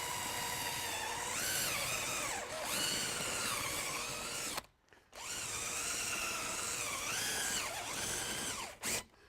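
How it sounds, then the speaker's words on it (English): A power drill drills out the rivets on an Integrity All Ultrex casement window, whining loudly and steadily with pitch dips as the bit bites. It stops briefly midway, then runs again in a second long burst, close and alone. "we're going to go ahead and drill out these rivets"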